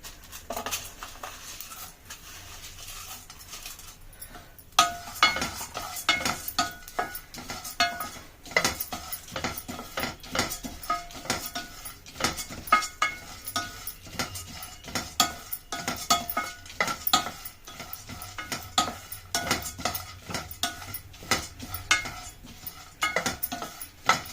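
Ingredients for a children's laddu roasting in a pan, with a spoon stirring and scraping against the metal in an irregular clatter of strokes, close and moderately quiet over a soft sizzle, with no voices.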